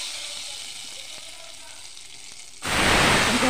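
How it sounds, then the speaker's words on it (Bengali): Salt dropped into hot ghee in a kadai while cooking a paneer dish: a quiet, faintly hissing stretch breaks into a sudden loud, dense sizzle that keeps going steadily to the end. "ঘিটা গরম হয়ে গেছে, একটা নুন দিয়ে দেবো"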